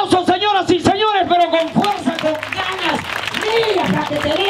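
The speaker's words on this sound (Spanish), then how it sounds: "Otro aplauso, señoras y señores, pero con fuerza." A theatre audience applauds street comedians, a wash of clapping that swells louder in the second half, while someone talks energetically and with rising intonation over it through the first part.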